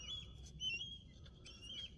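A bird chirping in the background in a few thin high calls, faint and distant over a low room hum, heard indoors during kart tire prep, with no talking.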